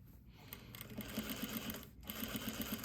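A sewing machine runs a back stitch while stitching a garment yoke, a steady mechanical whir with rapid needle ticks, briefly pausing before starting again, fairly quiet and close.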